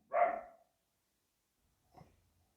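A dog gives one loud, close bark, then after a pause a second, shorter and fainter bark, with silence around both.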